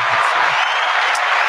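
A dense, continuous wash of audience applause fills a live podcast-style recording session, loud and fairly close, a steady roar of many hands clapping, with a faint voice or two mixed underneath.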